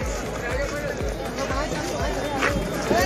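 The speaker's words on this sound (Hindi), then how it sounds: "इतना ट्रैफिक के बता नहीं सकते, इतना ज्यादा भीड़ है" Dense crowd at the Raniganj Mela fair, a constant murmur of many voices with thumping footsteps and nearby chatter throughout.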